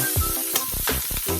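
Curry chicken feet sizzle and crackle in a hot pot, a steady frying hiss with repeated bursts as the food is stirred, close and fairly loud with no voices.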